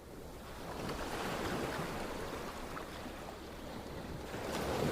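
Ocean waves wash and surge in a soft, continuous roar with gentle swells rising and falling, faint and distant, mixed with light wind and no voices.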